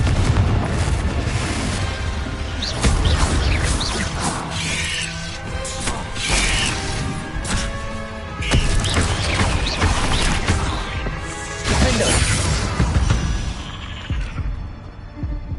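Hogwarts Legacy combat with Confringo and Incendio spells, dense repeated magical blasts, booms and crashing impacts layered with game music, loud and continuous throughout.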